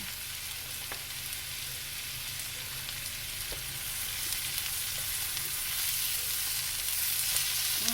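Chicken pieces for sweet and sour chicken frying in a pan, with a steady close sizzle that grows slightly louder midway and includes occasional light stirring clinks.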